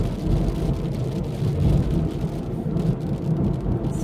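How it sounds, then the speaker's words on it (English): Heavy steady rain falling outdoors, a dense continuous low rumbling wash with a deep roar underneath, close and constant throughout without voices. "not in this rain."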